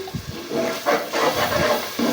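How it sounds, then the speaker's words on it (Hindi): Water splashed into frying masala for potato and aubergine curry, bursting into loud, uneven hissing sizzle with bubbling crackles that swell and pulse over a couple of seconds. "अब थोड़ा सा पानी डाल के ज़रा इसकी भुनाई करते हैं।"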